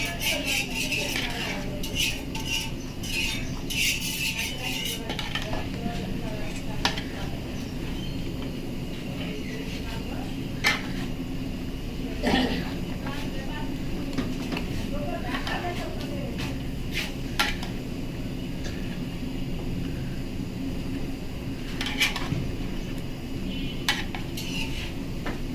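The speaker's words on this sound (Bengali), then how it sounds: "এই যে এখন আমি এরা লাড়া দিচ্ছি, সব কিছু মিক্স করতেছি।" Spicy Bangladeshi beef curry stirred in a pot, with repeated metal utensil clinks and scrapes against the pot over a low steady cooking rumble, and occasional talk in the background.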